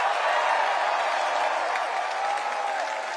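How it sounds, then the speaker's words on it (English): A campaign rally crowd in Virginia gives a round of applause, a steady wash of many hands clapping from a fairly distant audience, with faint scattered cheers, fading slightly toward the end. "Let's give Dylan a round of applause."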